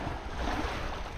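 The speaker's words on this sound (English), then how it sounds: "we got some wind and we got some waves" Wind and breaking sea waves on a Norwegian coast at low tide, a steady broadband rush with low rumbling surf and some microphone wind buffeting, no voices.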